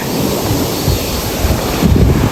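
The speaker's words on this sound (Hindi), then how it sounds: "ये देख रहे हो समुद्र" Sea waves rush and crash on the shore near the Dwarka coast, a loud, rolling roar mixed with gusty wind buffeting the microphone and a stronger surge toward the end.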